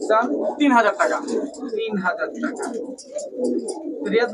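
Pakistani high-flyer pigeons, five pairs kept for sale, coo softly close by beneath steady conversation between men.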